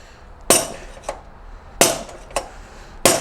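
A hammer strikes metal while an electric Sur Ron bike fork is driven out, giving five sharp, ringing knocks at irregular intervals, with louder blows alternating with softer ones and quiet gaps between.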